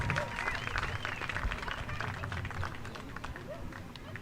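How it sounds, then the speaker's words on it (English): Scattered clapping and crowd noise from spectators at a baseball home opener between the Culpeper Cavaliers and Charlottesville Tom Sox, fairly faint and distant, with a murmur of voices underneath. "Let's give them a round of applause"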